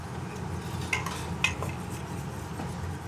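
A spoon stirs gofio into broth in a kitchen pot for gofio escaldado, giving soft scraping and a couple of sharp clinks against the metal, close by, steady and quiet with no talking.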